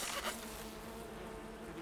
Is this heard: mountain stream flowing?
no